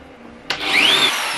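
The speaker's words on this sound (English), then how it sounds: "we're going to have to just drill the heads off all of them" A power drill bites into screw heads on a Patrick Eggle Berlin guitar, starting abruptly after a quiet moment and whining steadily up close.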